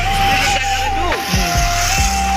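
Busy main-road traffic in Tamil Nadu: a constant dense roar of engines and passing vehicles, close and loud, with horns and a steady tonal whine over it, while someone talks over the noise.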